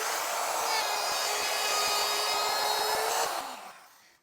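A wood router fitted with a dovetail bit cuts a tapered sliding dovetail into a wooden shelf, a steady high whine with rough cutting texture that holds loud and close for about three seconds, then spins down and fades.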